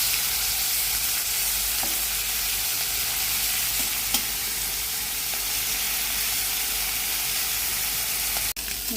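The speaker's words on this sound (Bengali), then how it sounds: "চিংড়ি মাছে নুন মাখিয়ে বন্ধুরা মাছগুলো ভেজে নেব।" Salted shrimp fry in a wok with a loud, continuous sizzle, dotted with small clicks and ending in a sharp knock.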